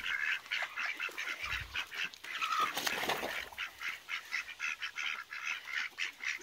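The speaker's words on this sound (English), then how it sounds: "The ducks are enjoying their pond." Ducks quack and chatter repeatedly at a moderate distance, a busy flock calling in quick uneven bursts over quiet outdoor background.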